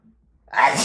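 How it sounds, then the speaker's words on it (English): A single loud, close sneeze bursts out after a brief quiet intake of breath, blamed on allergies. "See what I'm saying about the allergies is why I'm sneezing."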